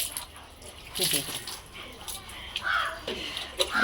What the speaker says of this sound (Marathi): हे कावळे पण ओरडतात